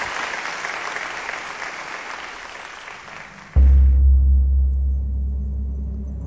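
A large crowd cheers and applauds for Neil Armstrong's moon landing. The broad, steady roar of clapping lasts a few seconds, then cuts abruptly to a loud, deep, continuous rumble.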